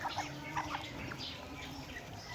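Ducks gathering to be fed on a Mindanao farm in the morning, a busy flock of quacks and gobble-like calls close by, with overlapping bursts over steady background noise.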